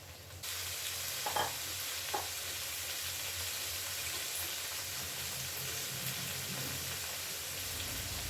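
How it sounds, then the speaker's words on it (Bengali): Mutton marinated with salt, turmeric and mustard oil drops into a hot kadai and frying erupts into a steady, loud sizzle, with a couple of stirring scrapes early on. "আগে থেকে নুন, হলুদ আর সরষের তেল দিয়ে ম্যারিনেট করে রাখা খাসির মাংসটুকু আমরা কড়াইয়ের মধ্যে তুলে দেবো"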